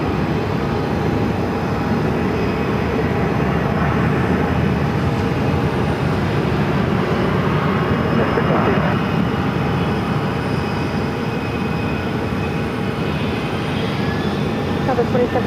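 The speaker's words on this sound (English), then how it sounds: "Southwest Flight 2737 coming in from Dallas on a 737-700." A Southwest Boeing 737-700 arriving from Dallas at Phoenix airport, heard as a continuous broad roar of jet engine noise, steady and loud across the whole stretch, with voices talking over it.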